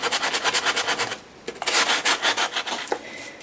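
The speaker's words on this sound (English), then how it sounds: "I'm going to take some sandpaper and I'm just going to go around the inside edges here" Sandpaper rubs along the inside edges of a paper book in quick back-and-forth strokes, close and fairly loud, with a brief pause partway through and no voices.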